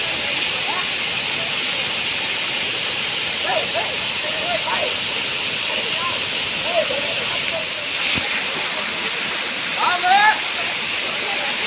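Waterfall at Anai Medu falls in Tharamangalam, Salem, a steady broadband rushing roar of falling water filling the whole clip, with faint voices and brief bird-like chirps over it.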